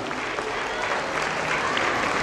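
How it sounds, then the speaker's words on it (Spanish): A cultural centre audience applauds young guitar students playing romantic rondalla-style melodies, a steady, even roar of clapping from a crowd with faint voices mixed in. "que se escuche fuerte el aplauso para estos jovenazos que están demostrando su talento"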